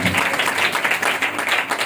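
A church congregation in Pakistan claps joyfully, a steady, dense wash of applause that carries evenly through the short stretch without pause.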